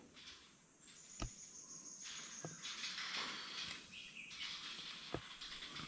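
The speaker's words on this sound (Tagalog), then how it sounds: "tumutunog yung ibon pre" Birds calling amid a steady buzz of insects in the background, with a few sharp knocks scattered through.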